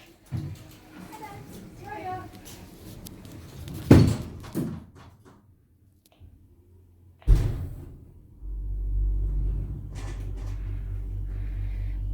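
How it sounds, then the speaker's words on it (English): East Midland lift doors sliding shut in a retail park, with a firm thud and a second clunk amid a quiet interior, followed by the low hum of the car starting to move; a voice speaks beforehand. "Mind the doors, please."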